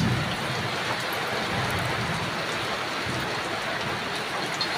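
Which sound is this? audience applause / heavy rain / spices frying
heavy rain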